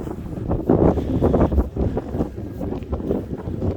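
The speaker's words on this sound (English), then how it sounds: "It's pretty windy here as well." Steady wind buffets the microphone in rough, gusty rumbles, loud and close, with no talking, on an evening street in Edinburgh's Old Town.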